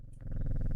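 A cat purrs when petted in the video game Strange Horticulture, a steady low rumbling purr with a soft rhythmic pulse that starts after a brief pause and continues close and clear without talk.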